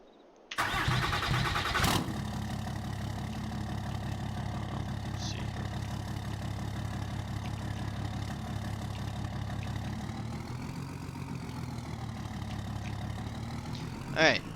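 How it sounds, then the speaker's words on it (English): In Farming Simulator 22, a Ram 3500 Cummins diesel pickup with a service body cranks and fires up, then settles into a steady, clattering diesel idle with a brief rev swell later, all fairly close and loud. "here we have our Ram 3500 Cummins with the service body on it"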